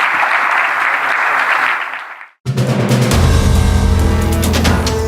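An audience applauds loudly for a Minister after a live business broadcast interview. The applause breaks off briefly, then comes back dense and steady.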